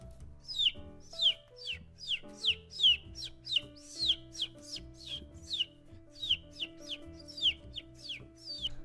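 A person imitates a bird with chicken-like clucking, a rapid series of sharp rising squawks repeated in uneven bursts over low tonal background sounds.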